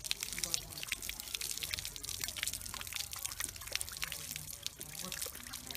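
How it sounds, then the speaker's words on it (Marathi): Water runs and drips faintly as hands are rinsed with clean water, a soft continuous trickle with small splashes throughout, quiet and close. "20 सेकंदानंतर हात पुन्हा एकदा स्वच्छ पाण्याने धुवा."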